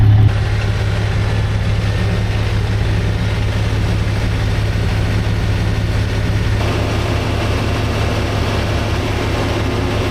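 A heavy tractor engine idles steadily and loudly throughout, a low rumbling chug that shifts to a slightly different, more pulsing rhythm partway through.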